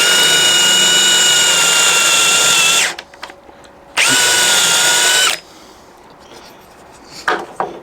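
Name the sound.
power drill boring a hole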